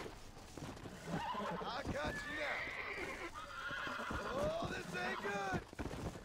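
A horse in Red Dead Redemption whinnies repeatedly amid hoof clatter, with someone talking over the animal sounds throughout.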